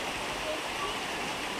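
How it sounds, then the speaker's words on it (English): Water pours down a chute onto the wheel of the historic Mill Creek Mackinaw sawmill, a constant close rushing splash with a faint voice in the background. "And then they open that door and it pours the water down to this wheel here."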